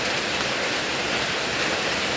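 Heavy rain and rushing floodwater in Idukki, a steady dense broadband roar that stays constant and close for the whole stretch, with no voices over it.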